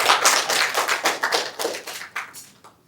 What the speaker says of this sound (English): Allow us to give another hand clap for the panelists.